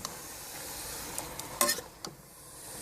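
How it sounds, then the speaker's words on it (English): Pork stirred and sizzling in a pan for Bajan pot pork, a steady frying hiss with a few short scrapes and clinks of the spoon, close and moderately loud. "So I will just stir a while."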